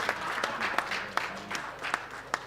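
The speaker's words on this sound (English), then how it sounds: "Another round of applause," Audience applause at a formal ceremony renaming a state house, a crowd clapping steadily with several sharper individual claps standing out, fairly close and without talk.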